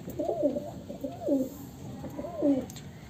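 A female flying pigeon coos three times close by, rhythmic throaty rolling calls spaced about a second apart against quiet surroundings.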